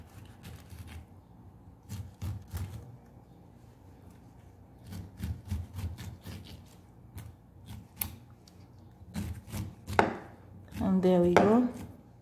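Sharp knife chopping through a pineapple, a series of crisp cutting strokes at close range spread across the clip, ending in a louder burst of rustling and scraping as the fruit is handled, with a brief spoken remark.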